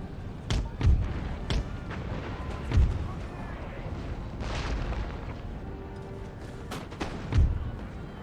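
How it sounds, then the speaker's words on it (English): Musket volleys crack out in an Empire: Total War battle with Prussian line infantry, several sharp booming reports scattered across the stretch, some heavy and close, over a steady rumbling battlefield din. "We're just kind of shooting them to death when they can't really do anything in reply"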